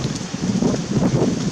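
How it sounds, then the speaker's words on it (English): Gusty wind buffeting the microphone, a low rumbling roar that swells and dips continuously, loud and close, with no speech. "Oh, that is windy."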